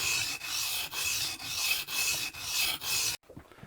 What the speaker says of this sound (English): concentrate on keeping just the grind, or the bevel if you like, flat to the stone